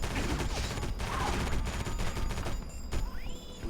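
Gunfire from the video game Area 51, a dense, loud run of shots and blasts filling the whole stretch without pause, with a short sweeping electronic effect near the end.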